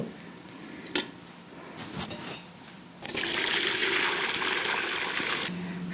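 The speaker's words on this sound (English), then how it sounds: "then I will drain the liquid out" Bone broth liquid drains from an Instant Pot, starting as scattered clinks and trickles, then becoming a steady, close pouring rush that runs for several seconds before tapering off.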